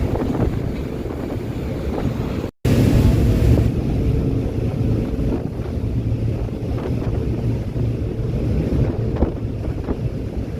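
Fast ferry engines drone steadily below deck, mixed with strong wind buffeting the microphone. A brief dropout breaks the sound near the start, and then the drone continues unbroken.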